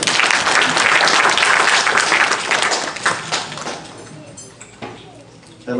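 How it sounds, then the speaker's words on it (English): At a temple camp event, the audience applauds the children's executive board: loud, dense clapping that thins out and fades over several seconds, with voices faintly underneath. "Give them a round of applause."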